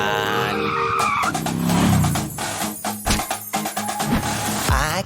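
A cartoon race car skidding in a children's animated race, with loud tire squeals and revving engine noise over a bright musical backing, ending in a short screech.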